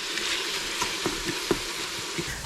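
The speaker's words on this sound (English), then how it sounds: "We're gonna caramelize these down. We're gonna add a pinch of salt to help speed that process." Sweet onion with a pinch of salt caramelizing in a frying pan, giving a steady close sizzle and crackle with a few light stirring clicks and spatula taps, no voices.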